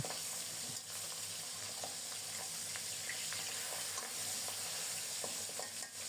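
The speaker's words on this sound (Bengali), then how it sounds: "মাছগুলো খুব সুন্দর মতো ভাজা হয়ে যাচ্ছে" Fish sizzling and crackling in hot oil, a steady frying hiss with occasional stirring clinks, no talking.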